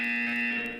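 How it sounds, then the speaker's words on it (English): In Portal 2, a single sustained electronic buzzer drones at a steady pitch, loud and close, then cuts off abruptly near the end. "When you hear the buzzer, look down at the floor."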